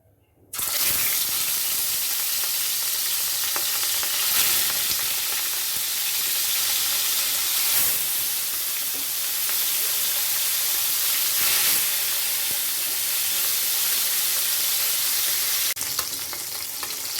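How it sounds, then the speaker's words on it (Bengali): Katla fish pieces rubbed with salt, lemon and ground pepper drop into hot oil, bursting into a loud, dense, continuous sizzle that holds steady with faint occasional crackles. "তেল গরম হয়ে গেছে নুন লেবু আর গোলমরিচ গুঁড়ো দিয়ে মাখিয়ে রাখা মাছগুলোকে এবার ভেজে নিচ্ছি"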